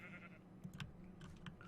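Sheep bleating in the Minecraft modpack FTB Infinity Evolved, a few short, faint game bleats spaced apart over a low steady background hum.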